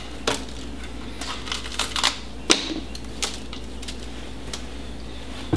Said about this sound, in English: We're going to cut the top off of it, bottom, clear out the seeds and the inside of it.